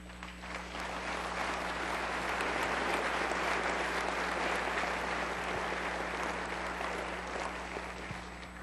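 Audience applause at a county state-of-the-county speech, a sustained wash of clapping that swells after a second and holds steadily, with a low hum underneath.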